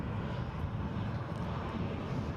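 A Norwegian Boeing 737 taxiing out at Edinburgh airport, heard as a steady, broad jet engine roar with a low rumble, moderately loud and unbroken throughout, with no voices.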